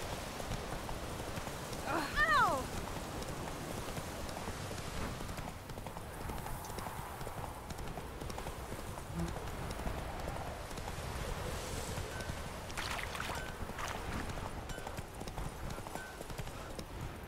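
Horse hooves clip-clopping in The Witcher 3, a continuous rhythmic trot under game ambience with a brief whinny early on, while a person talks over it.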